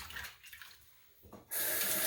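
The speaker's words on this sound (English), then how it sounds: "I'm going to wash my hands for a moment." Hands are washed in a kitchen sink of warm, sudsy water: quiet splashing and handling first, then a faucet abruptly turns on and runs loudly.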